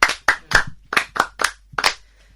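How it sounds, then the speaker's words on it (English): A classroom group in a French lesson claps in short bursts, about seven distinct sharp claps spaced unevenly over a couple of seconds, close and fairly loud, with no talking. "Excellent, applaudissez."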